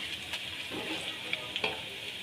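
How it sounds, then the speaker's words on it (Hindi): Chana dal pulao ingredients frying in oil, a steady broadband sizzle with a few sharp clicks and scrapes of stirring, close and continuous for about two seconds. "ऑयल में भूनना है।"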